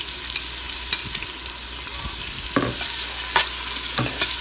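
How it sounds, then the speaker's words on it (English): Minced garlic sizzles steadily in a hot pot of oil, a continuous close frying hiss with a few brief clatters of stirring, and no voices. "It's gonna start sizzling."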